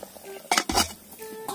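A lid set onto a cooking pot of tinapa with moringa leaves, heard as a couple of short metallic clanks and clinks close by, with quiet kitchen background and no talking.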